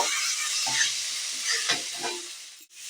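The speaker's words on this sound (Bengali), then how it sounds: "খানিক্ষণ ভাজা করব" A ginger, onion and garlic paste sizzles steadily in a hot pan while it is stirred, giving a constant loud frying hiss with soft scraping strokes near the end and no voices.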